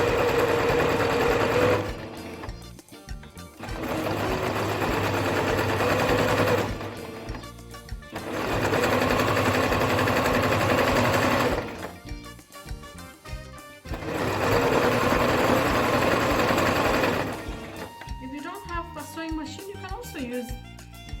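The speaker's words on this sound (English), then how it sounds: "And then I'm going to sew it all the way down." A sewing machine stitches fabric in long steady runs of rapid mechanical hammering, pausing briefly between bursts, close and loud, with softer handling noises during the gaps.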